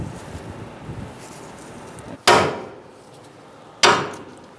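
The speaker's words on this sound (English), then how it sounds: "you're going to want to give that a few whacks to see if it comes out." A hammer strikes a castle nut on the inner tie rod of a 2010-2013 Kia Soul: two sharp, loud metallic whacks about a second and a half apart, close by, over quiet workshop background with no talking.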